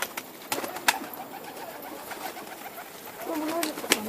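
Pigeons coo softly while being fed, low murmuring calls mixed with scattered clicks and pecking taps at moderate distance, with no voices over them.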